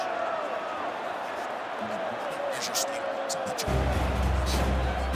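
A boxing arena crowd roars after a split-decision title result, a broad wash of cheering that swells toward the end while a voice talks over it.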